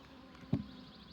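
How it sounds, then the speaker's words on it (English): Honeybees at an opened hive being calmed with smoke give a faint, steady hum, with one brief louder buzz or bump partway through. "I don't want to crush any bees"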